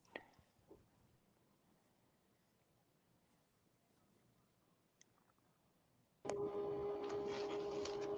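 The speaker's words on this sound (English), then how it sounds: "Is that your printer?" A printer starts up after a long quiet stretch of faint room noise, then runs steadily with a loud mechanical whir and buzz for the last couple of seconds.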